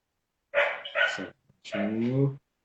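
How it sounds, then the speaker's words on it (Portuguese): A small dog barks during an Instagram live stream, giving two drawn-out, yappy bursts close to the microphone with a short pause between them. "Tem um cachorrinho aí."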